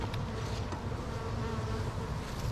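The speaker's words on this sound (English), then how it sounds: "that's a lot of bees up here" Honey bees buzz in a dense, continuous hum around an apiary hive, a steady close swarm drone with no pauses and no voices.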